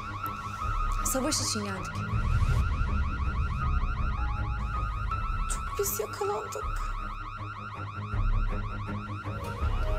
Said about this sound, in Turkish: Alarmı da siz mi çalıştırdınız yoksa?